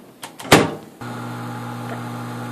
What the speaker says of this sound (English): we're going to put those in the microwave for about 2 minutes